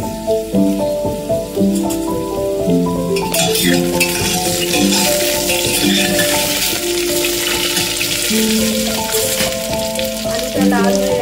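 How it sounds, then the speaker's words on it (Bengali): Potatoes fry in a pan until reddish, making a loud, bright, sustained sizzle that swells after a few seconds, with occasional clinks and a melodic music track playing underneath. "এবার এর মধ্যে দিয়ে দেব লাল লাল করে ভেজে নেব।"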